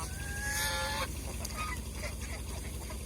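Ducks on a duck farm honking and quacking in a loud burst, with tonal calls for about a second, then scattered fainter quacks over a steady low background hum.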